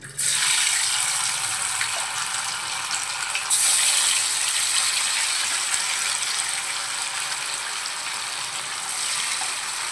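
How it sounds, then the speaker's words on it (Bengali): Paneer fries in a pan for chilli paneer, giving a loud, steady hiss and sizzle that runs unbroken throughout, with no talking. "এইভাবে ভেজে নিচ্ছি তারপরে ফেরত আসছি"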